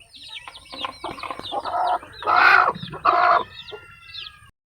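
Backyard chickens cluck in repeated bursts, loud and close, with higher squawks and chirps layered over steady low background noise and a couple of louder clucking bouts midway; no talking.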